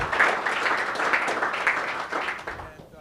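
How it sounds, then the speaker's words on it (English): Applause rises from the audience at a Rotary Club meeting: a moderate room of people clapping steadily, close and fairly loud, then tapering off near the end. "How about a round of applause for those folks?"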